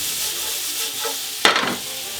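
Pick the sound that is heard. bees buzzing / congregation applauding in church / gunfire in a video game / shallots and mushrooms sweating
shallots and mushrooms sweating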